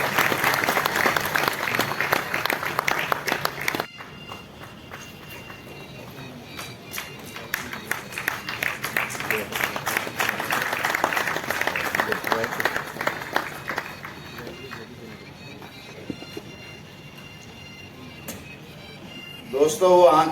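An audience at a state-level journalists' award ceremony for Devarshi Narad Jayanti keeps up sustained rhythmic clapping, loud at first, then softer and steadier under music and background voices, before swelling again at the close.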